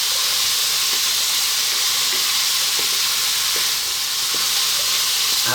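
Chickpea curry fries hard on high heat while being stirred, giving a loud, unbroken sizzle and hiss with faint periodic scraping of the utensil, close up and without speech.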